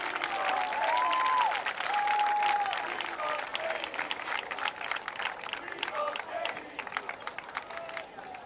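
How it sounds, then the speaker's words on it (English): A crowd at a varsity boys soccer game claps and cheers. A high whistle-like tone rises above the noise at the start. The applause then settles into a steady mid-level clatter that fades slightly toward the end. "Give her an applause."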